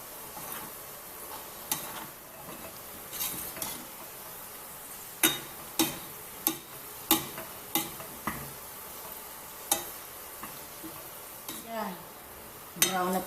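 Garlic sizzles in a pan while frying toward golden brown, a soft constant crackle under repeated sharp clicks and scrapes of a utensil stirring against the pan, close and fairly quiet.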